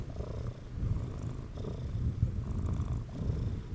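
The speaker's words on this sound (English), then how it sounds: "Get your purring little face back here." Close, steady purring from a cat right by a sensitive microphone, a low rhythmic rumble pulsing with each breath, alone without speech.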